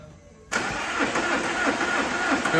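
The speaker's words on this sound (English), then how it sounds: "prime the turbo and get ready to start it" An Alfa Romeo Giulietta with a freshly replaced turbo cranks after a brief quiet moment, its engine churning steadily and loudly without fully catching, close by with no talk.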